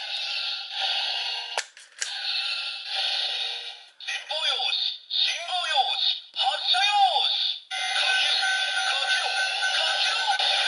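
A DX X Changer toy blaster plays its electronic firing effects: clicks, then a series of bright warbling, sweeping zaps broken by short gaps, loud and close.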